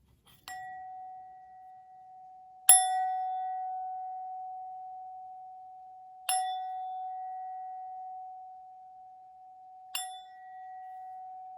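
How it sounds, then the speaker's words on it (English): A bell is struck four times at spaced intervals, each a clear metallic ding that rings on with a long sustained tone fading slowly between strikes, in otherwise quiet surroundings. "let's just ring the bell."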